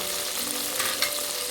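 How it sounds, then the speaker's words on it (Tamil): Sliced onions sizzle steadily in hot oil in a pan while being sautéed for tomato rice, a close, even crackling hiss with no talk. "ஒரு லைட் ப்ரௌன் கலர் ஆற வரைக்கும் நம்ம இந்த மாதிரி வதக்கி விட்டுக்கலாம்."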